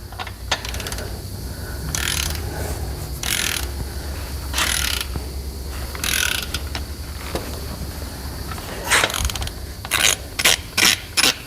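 A torque wrench tightens crankshaft bolts on a budget 305 engine. Several separate bursts of rapid ratcheting clicks ring out close and clear, with a quick run of shorter bursts near the end.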